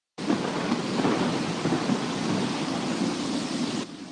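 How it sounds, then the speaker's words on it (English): A thunderstorm bursts in abruptly with a loud rumble of thunder over heavy, hissing rain, sustained and close for several seconds before dropping off sharply at the end, with no voices. "Oh man, storm's coming."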